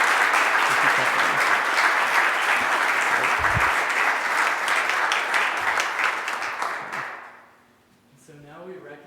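An annual meeting audience gives a sustained round of applause, loud and even, that fades out near the end before a voice begins speaking.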